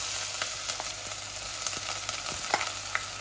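Onions fry in a pan with a constant bright sizzle, dotted with small crackles and spits, close and even from start to finish.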